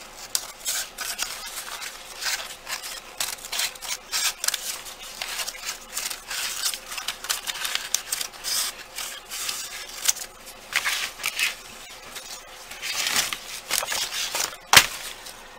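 Scissors snipping through a paper pumpkin craft at its seam, a steady run of close, crisp paper rustles and cuts with a sharper snap near the end.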